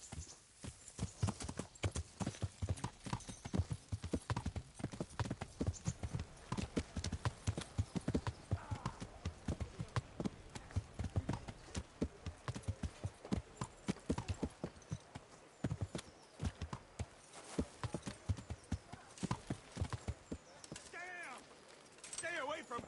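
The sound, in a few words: horse hooves clip-clopping, from video game Kingdom Come: Deliverance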